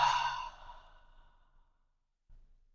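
A single slow, breathy exhale during a calming breathing exercise, loud at first and fading over about two seconds, followed by quiet and a faint soft rustle.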